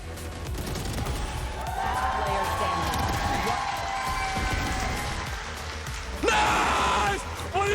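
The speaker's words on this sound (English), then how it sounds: "a lot of big cheers at the mention there" A large arena crowd at a VCT esports finals roars and cheers continuously, with a loud swell near the end, while voices talk over it.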